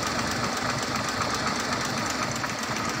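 Toyota FJ40 pickup with a modified engine running at idle, a steady loud mechanical rumble with a rough knocking texture that holds evenly throughout, close by and alone with no talk.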